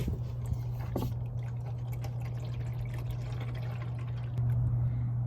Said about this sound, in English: it takes a couple minutes for the oil to fully drain out into the pan